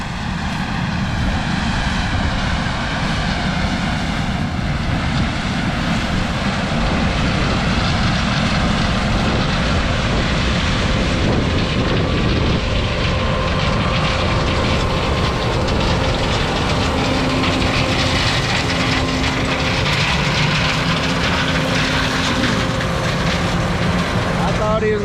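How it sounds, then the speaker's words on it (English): Heavy, constant wind buffeting rumbles across the microphone throughout, a dense roaring noise with no pauses. "Gonna have some wind noise today."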